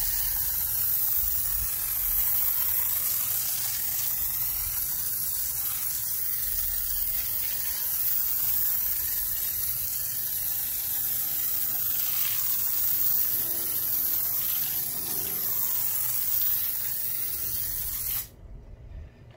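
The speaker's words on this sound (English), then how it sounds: "So first I'm going to spray it on, let it sit, and we will see how it does just the spray and rinse application" Adam's Wheel & Tire Cleaner hisses steadily from a pump foamer onto a car wheel and tire, a continuous close spray lasting nearly twenty seconds before cutting off abruptly.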